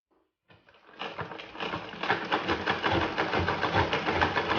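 A sewing machine stitching cloth in a tailoring lesson starts after a brief pause, then settles into a fast, steady mechanical whirr and rattle that stays loud and continuous to the end.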